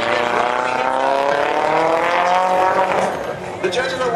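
A 2000 Nissan S15 with a 450 hp Tomei engine and Nismo six-speed gearbox drifting at speed, making a loud, steady engine roar with tire squeal that eases slightly near the end, with a commentator talking over it.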